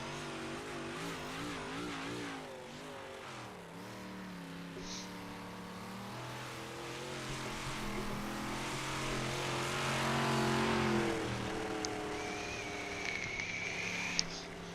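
Simulated stock-style race cars lapping Charlotte oval in iRacing, a steady engine drone with harmonic whine rising and falling as cars circle, moderately loud and continuous throughout.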